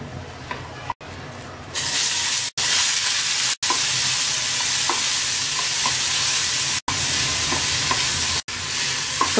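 Chopped tomatoes fry loudly in a pan, a steady hissing sizzle broken by several short edit gaps, with light stirring taps scattered throughout.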